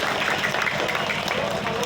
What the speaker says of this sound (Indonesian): Tepuk tangan dulu dong buat Pak Polisi kita